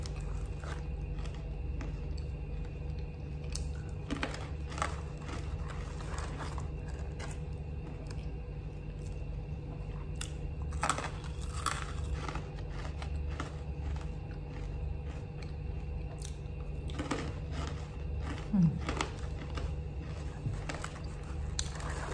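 Close, steady chewing of crunchy Chinese snacks, with intermittent sharp bites and crunches over a constant low hum across a long stretch, and no talk.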